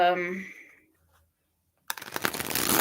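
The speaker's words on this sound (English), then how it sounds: "I do the shuffle where both decks meet each other" Brief voiced sound fades to near silence, then a dense, crackling riffle of two halves of a tarot deck being shuffled together runs loud and close to the end.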